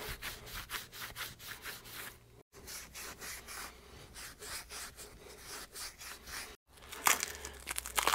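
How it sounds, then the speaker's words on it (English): A fine gray abrasive pad rubs over a part from a Hitachi EX120-2 excavator swing device during a rebuild, making close, repeated scrubbing strokes in an uneven rhythm with two brief silent breaks. "Okay, now I got a gray pad. It's a little bit finer just to polish it up a little bit."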